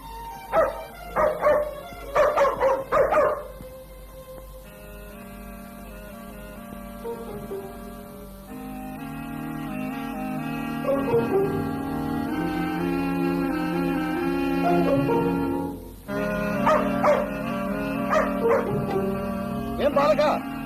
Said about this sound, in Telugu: ఏమిట్రా కుక్కరుస్తుంది?